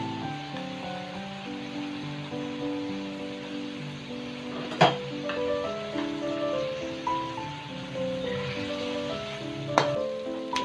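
Chicken frying in a pan as green onions and other onions are added, giving a steady soft sizzle with two sharp clinks of a utensil against the pan and background music throughout.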